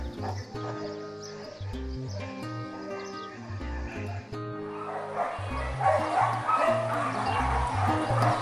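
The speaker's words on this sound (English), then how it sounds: "The sound of dogs barking became our constant companion throughout the week." Dogs bark repeatedly at a galgo shelter in Spain, several animals yapping and woofing over a steady tonal background that gets busier and noisier toward the end.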